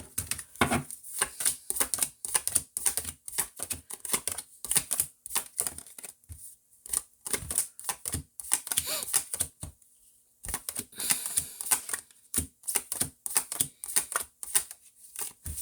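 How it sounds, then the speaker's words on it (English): Tarot cards being shuffled in repeated bursts of quick riffling and tapping, close up, with brief pauses between rounds. "I'm still shuffling"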